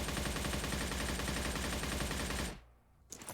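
An AKS-74U rifle in a video game fires a loud, continuous full-auto stream of shots for about two and a half seconds, then stops abruptly, with a couple of faint clicks after.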